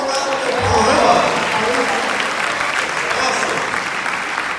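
An audience at the 18th Annual Alpha Beautillion gives a sustained round of applause, a dense, even clapping that stays loud throughout, with voices mixed in under it.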